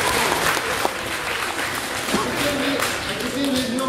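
An audience claps at a physics demonstration lecture, dense steady applause filling the room for a few seconds with a voice speaking over it.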